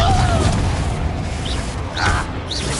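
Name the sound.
Confringo spell blast in a Harry Potter video game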